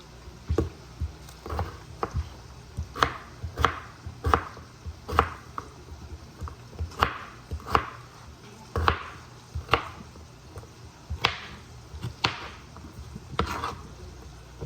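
Knife chopping potatoes on a cutting board, a steady series of sharp close thuds roughly every half second, fairly loud against a quiet room with no talking.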